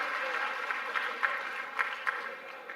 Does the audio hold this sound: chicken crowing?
no